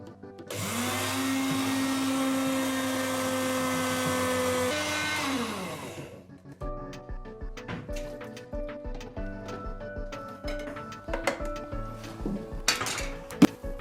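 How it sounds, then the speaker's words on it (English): Powerful spice grinder crushing poppy seeds, a loud steady motor whine for about six seconds that winds down, followed by clinking and clattering of utensils and containers. "A powerful spice grinder is used to crush poppies"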